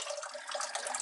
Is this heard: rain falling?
no